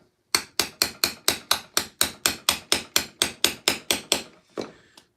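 A hammer strikes a metal armour plate about fifteen times in a steady, even rhythm, each blow sharp and ringing, followed by a pause and one last softer hit, all close up in a garage.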